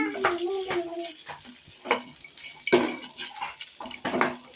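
Crispy corn stirred in a pan with a metal spoon, giving irregular clinks and scrapes against the pan over a light sizzle, close and clear.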